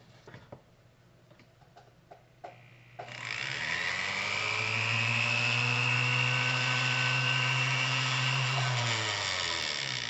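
A fountain pen nib being ground on an Italian one-step stone that both grinds and polishes. A few faint taps come first, then a loud, steady whirring grind runs for about six seconds before easing off.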